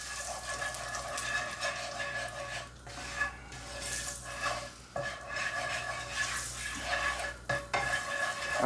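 Meat for a vindaloo browns in a little oil in a pan, a close sizzle with stirring scrapes and clattering utensil knocks that briefly pause now and then, with no talk.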